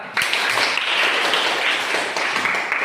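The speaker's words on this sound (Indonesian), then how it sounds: "Tepuk tangan." Dense applause from a group of schoolchildren in a classroom fills the clip, a steady crackle of many hands clapping at once, fairly close and sustained throughout.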